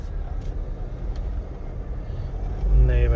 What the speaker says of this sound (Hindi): चल भाई गाड़ी गुजर गई।